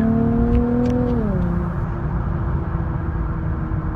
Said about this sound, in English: I really like the sound of the car. It's really grunty and it's smooth.